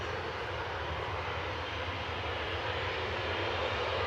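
A Ryanair airliner bound for Alicante at Manchester Airport produces an unbroken engine roar, dense and constant, rising slightly toward the end without any voices.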